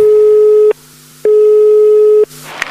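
Telephone tone on the line after dialing, two long steady beeps separated by a short gap, loud and clear in the handset, followed by a faint click.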